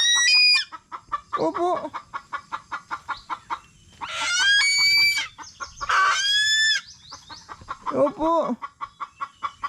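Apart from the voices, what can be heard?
hungry chickens clucking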